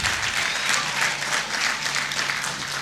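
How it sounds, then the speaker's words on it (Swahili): Audience applause for the parents at a campus graduation ceremony, a dense, sustained clapping from a large crowd holding steady throughout. "Naomba tuongeze hayo makofi kwa ajili ya wazazi."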